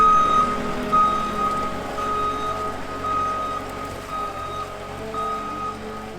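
A skid loader moves on a construction or equipment lot with its reversing alarm beeping steadily about once a second over a low diesel engine rumble, outdoors in wet weather, with no one talking.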